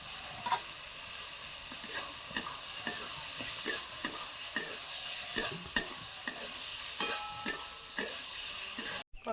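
Chicken mince frying in a pan with a steady hiss, while a spatula scrapes through it in regular, close strokes about once a second, alone without talk.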